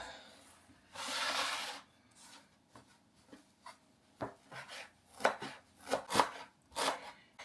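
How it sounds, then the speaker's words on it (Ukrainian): Fresh dill is chopped with a knife on a cutting board, a close series of crisp knife strikes that begins with a rustling sweep and then turns into quicker, irregular chopping taps, without any talking. "І залишилось нам нарізати кріп."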